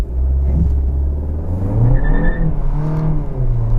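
A 2021 Kia K5 GT Line with a 1.6-liter turbocharged engine accelerates from inside the cabin, a steady loud engine drone rising in pitch through a gear, with road rumble beneath.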